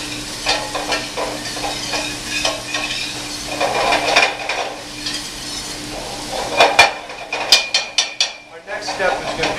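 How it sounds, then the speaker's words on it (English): Diced onion sweats in a soup pot with bacon, a low sizzle under repeated scraping and clinking of a utensil against the pot, with bursts of stirring and metallic taps. "we're going to sweat this for about 2 minutes or so, just to release all the flavor in this onion"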